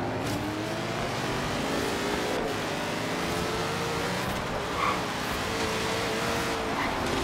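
Drewniak Biturbo car in Forza Horizon 3 accelerating hard, a steady dense engine roar with rising revs that holds loud and close for the whole stretch, with no voices over it.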